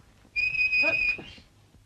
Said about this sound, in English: For heaven's sake, don't whistle.